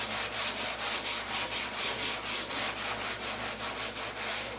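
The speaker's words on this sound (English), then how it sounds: "if you happen to sand through to bare metal, stop sanding there" Hand sanding of primer on the box of a 1951 Chevy truck makes steady back-and-forth rasping strokes, close and even in rhythm, about three per second with no talk.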